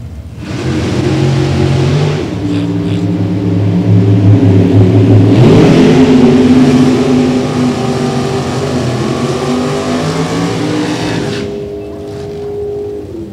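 A Ford Mustang drag racing car's engine roars loudly and steadily for about thirteen seconds at an event in Dalton, Georgia, with the pitch climbing partway through as it revs harder before easing off.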